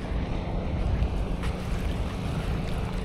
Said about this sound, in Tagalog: May hampas ng alon